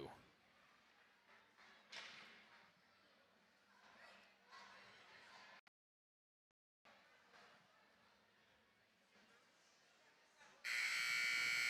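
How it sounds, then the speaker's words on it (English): A loud electronic buzzer blares abruptly near the end, marking the end of a period at a girls' ice hockey playoff game, following talk over a busy arena crowd noise and a brief silent gap. "Buzzer sounds though."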